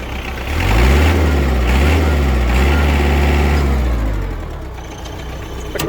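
Kubota X-24 Japanese mini tractor with half cab, its small engine running steadily and fairly loud, with a slight dip and rise in pitch before easing toward idle.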